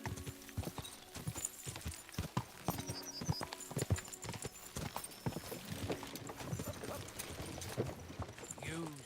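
Horse hooves clip-clop in a steady walking rhythm in the medieval video game Kingdom Come: Deliverance II, moderately close, with game ambience and occasional voices around them.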